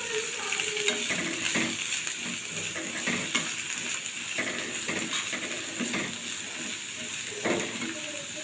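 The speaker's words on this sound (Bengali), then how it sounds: "বিনস গাজরগুলো একসাথে ভেজে নেব।" Beans and carrots fry in ghee in a kadai, giving a continuous close sizzle broken by frequent scraping strokes of a spatula and light clinks against the pan, with no talking.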